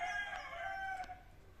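A chicken squaring off against a lizard gives a brief, faint strained call, a single short vocal burst over quiet outdoor background.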